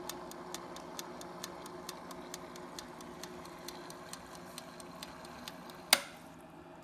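A Kiinde Kozii bottle warmer's timer ticks in an even, quiet rhythm, about two ticks a second, against a faint hum, ending with a sharp louder click near the end.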